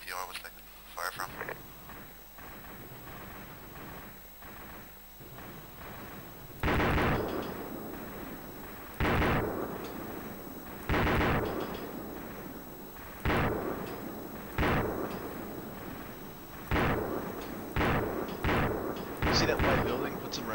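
Repeated loud gunshots and heavier booming shots ring out in irregular bursts during a team-versus-team battle around a container yard, probably in a video game, with radio-style voices talking between the volleys.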